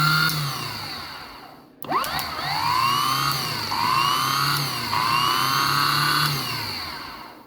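A rebuilt starter motor for a 6.9/7.3 IDI diesel spins on the bench after a sharp click, whirring loud and steady with a pulsing whine that dips and rises several times before winding down.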